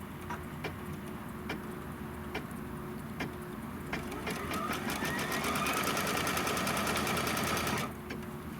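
An embroidery sewing machine stitches a seam and then a trim line on fabric, its rapid mechanical needle ticking steady and close, speeding into a dense continuous run before stopping abruptly.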